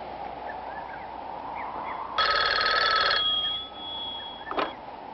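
An old landline telephone bell rings in one loud burst of about a second, then a fainter tone lingers, followed by a brief click, with no talk.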